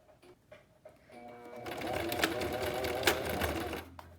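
A sewing machine stitches a pleated fabric face mask, starting with a few short bursts before settling into a steady, fast run of needle clatter up close, then stopping abruptly.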